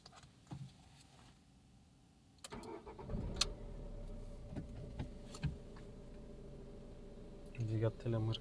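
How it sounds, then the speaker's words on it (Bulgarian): A Skoda Fabia 1.9 TDI diesel engine cranks and catches, then settles into a steady, close idle that runs for several seconds, with a few brief knocks and clicks near the end. "Двигателя мърка."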